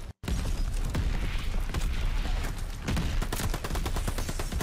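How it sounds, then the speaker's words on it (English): Dense, continuous gunfire and booming mortar explosions in a Call of Duty Vanguard multiplayer match, loud and relentless rapid bursts layered over heavy impacts after a brief silent start. "there's a lot of mortar fire coming this direction"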